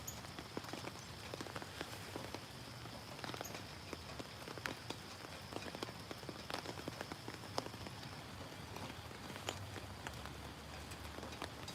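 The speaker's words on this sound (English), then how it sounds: "Nice rainy morning here on the river in southeast Pennsylvania." Steady rain falls on a river in southeast Pennsylvania on a morning, a dense, even patter of countless raindrops with occasional sharper drips, soft and continuous with no voices.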